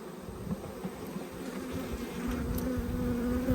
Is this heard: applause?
no